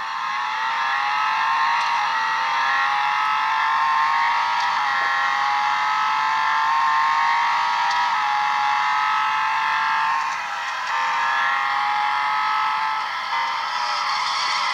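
In a racing video game played on a Chuwi Hi10 Pro tablet, a car engine whines loud and steady throughout, its pitch shifting slightly, with no separate skid standing out.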